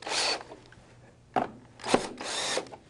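Screws being turned counterclockwise out of a sill saddle, a few brief whirring bursts of a driver close up, separated by short pauses.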